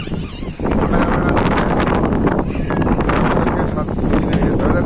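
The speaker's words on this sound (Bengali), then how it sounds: "হাওয়া দাঁড়িয়েছে বৃষ্টি পড়ছে" Strong, roaring gusts of wind from a Kalbaishakhi storm with rain falling, a dense continuous rush that buffets the microphone close up, surging louder after the first half second.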